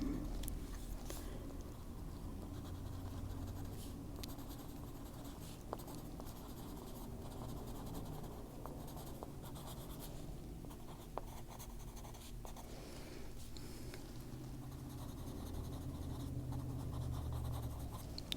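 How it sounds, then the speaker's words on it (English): Colored pencil rubbing steadily over paper, laying in Holbein moss green with a continuous soft scratchy hiss and small strokes, close and quiet, with no talking. "just fill it in with a green pencil"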